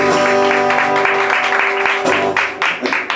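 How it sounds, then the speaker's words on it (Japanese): Warm clapping from a live audience between sets of a duo's stage performance, bursts of hand claps over a lingering sustained musical tone that fades toward the end. "手厚い拍手、嬉しいですね"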